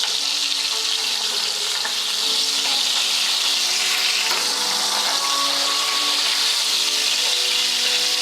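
Shrimp frying in hot oil for a sandwich, a steady bright sizzle and crackle that continues evenly throughout with no talking.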